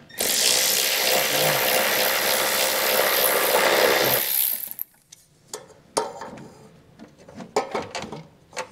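A power tool whirs loudly and steadily for about four seconds while removing 10 mm nuts under a 2022 Ford Edge, followed by scattered metallic clicks and handling clatter.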